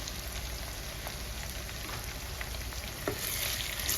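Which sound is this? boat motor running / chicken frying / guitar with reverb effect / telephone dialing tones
chicken frying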